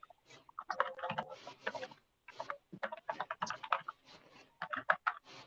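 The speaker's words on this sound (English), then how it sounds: "Now you hear me typing." Rapid clicking of keys on a computer keyboard, irregular bursts of typing with short pauses, close and fairly quiet.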